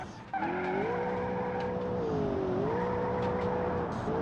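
Turbocharged 600-horsepower supercar engine in the Automation game, a loud sustained rev with rising and falling pitch as it drives a canyon road, tires squealing at times, with no talk.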